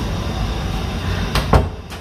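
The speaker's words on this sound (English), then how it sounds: "Close the door." A door at an all-inclusive resort room in Riviera Maya, Mexico, shuts with one solid thump and a short rattle. A faint click follows, and the background stays quiet.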